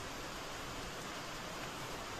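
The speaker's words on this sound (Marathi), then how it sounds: "तुम्हाला जर या पत्र्यांचा आवाज येत असेल तर मग ऐकण्याचा प्रयत्न करा" Heavy rain drums on metal roof sheets, making a dense, even, continuous roar with no pauses or voices.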